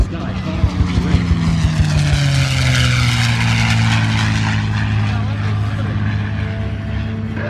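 Propeller-driven WW2 warbirds and a T-34 Mentor making low passes over the airfield at the Miramar Airshow, a loud continuous engine drone with falling pitch as they pass close by, with voices over the sound.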